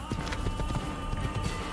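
Horse hooves clip-clop at a steady trot in the Assassin's Creed video game, with close, rhythmic hoofbeats running continuously over a busy game-ambience bed.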